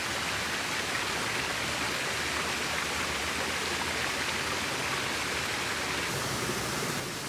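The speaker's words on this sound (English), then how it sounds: "I don't think you can hear me with all the water in the background" Water rushes steadily down a stream beside a forest trail, a loud, continuous broadband roar that fills the whole stretch with no pauses and no voice above it.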